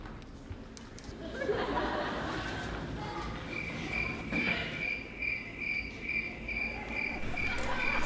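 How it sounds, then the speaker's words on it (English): Crickets chirp in steady pulsing bursts during a stage musical, their high trill repeating rhythmically over a murmur of audience chatter and faint laughter. "Crickets."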